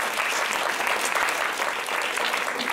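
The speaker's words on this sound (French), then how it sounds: "Bon mais super, ben on t'applaudit." An audience applauds a speaker at a French talk on pitching, with dense, steady clapping that stays loud and even throughout and no voices over it.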